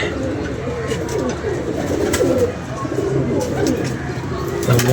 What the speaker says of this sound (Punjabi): ਕਬੂਤਰ ਨੀਚੇ ਆਉਣਾ ਸ਼ੁਰੂ ਹੋ ਗਏ ਨੇ ਜਨਾਬ।